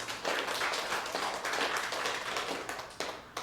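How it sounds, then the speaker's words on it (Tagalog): A church congregation claps for the Lord during a Filipino sermon, a full room of hands beating in a busy, even patter that tails off into a few last scattered claps. "Palakpak po sa Panginoon."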